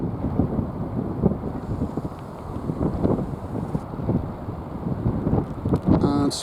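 Blustery wind gusts buffet the microphone on the Belfast docks near a cruise ship terminal, producing a rumbling, uneven roar that swells and dips throughout.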